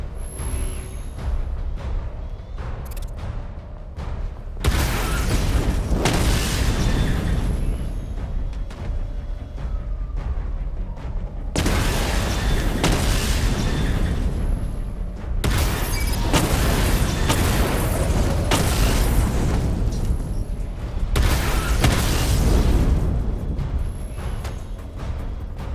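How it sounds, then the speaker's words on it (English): A missile barrage in Batman: Arkham Knight sets off heavy, loud booming explosions in several long rumbling bursts with short quieter gaps between them, and no one speaks. "Charge the missile barrage to level 2 to destroy up to 4 targets at once."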